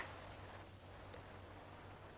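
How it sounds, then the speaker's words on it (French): Crickets chirp in a steady, repeating high trill with short regular pulses, quiet and continuous against a faint low hum, with no voices present. "Dis au grillon qu'il se taise."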